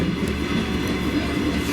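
Passenger train riding on rails for a one-stop trip in Latvia, heard from inside the carriage as a steady loud rumble with faint clickety-clack of wheels, no voices.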